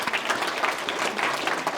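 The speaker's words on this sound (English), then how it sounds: "Give her a round of applause there" A lecture-series audience gives a brief, dense round of applause, a steady wash of many hands clapping together for about two seconds.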